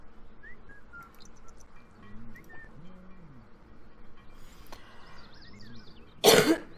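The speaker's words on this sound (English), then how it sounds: "Sorry about the coughing." Two or three quiet throat-clearing coughs sound indoors over soft background game music and chimes, followed by a sharp, loud burst near the end of the clip.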